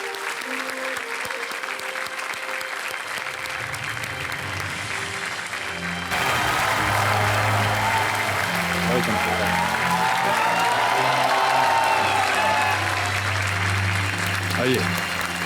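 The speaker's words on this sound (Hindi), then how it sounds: "जोरदार तालियों के साथ अभिनंदन किया जाए।" Loud studio audience applause on a televised quiz show set for a Padma Shri honoree and his wife, starting as steady clapping and swelling into a fuller, denser ovation that holds to the end, with a host's voice over it.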